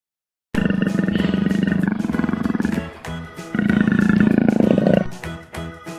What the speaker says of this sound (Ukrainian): Леопард.